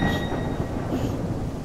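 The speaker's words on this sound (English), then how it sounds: "all of a sudden this thunderstorm isn't so calm" Loud, continuous low rumble of a thunderstorm in a Backrooms video game set in a huge parking lot, a dense roar with no talking over it.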